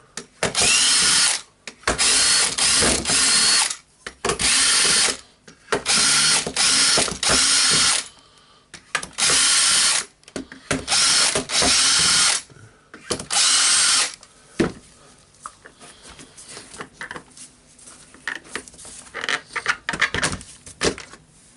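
A cordless ratcheting screwdriver buzzes in repeated short bursts while screws are backed out of the motor housing of a Makita 9911 belt sander, loud and close, with pauses between runs and quieter clicking toward the end.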